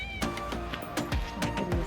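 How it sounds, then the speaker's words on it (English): A cat meows several times in quick succession, close and fairly clear against light background noise outdoors during a tour of Coron, Palawan in the Philippines. "oh, there's a really cute cat, look at this"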